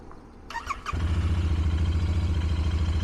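A Royal Enfield motorcycle on its stock factory exhaust cranks with a brief whir of the starter, then fires and settles into a loud, close, steady thumping idle with a regular pulsing beat.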